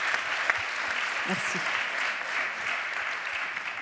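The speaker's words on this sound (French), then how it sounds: "on peut l'applaudir" Audience applause at a French round-table conference, a steady dense clapping from a seated crowd that holds at an even level throughout, with a brief spoken word from a voice near the microphone.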